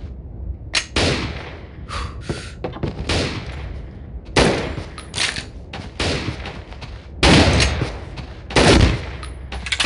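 Rapid bursts of pistol gunfire in a pistol-only video game match, loud and close, fired in clustered volleys with brief pauses and mechanical clicks between them.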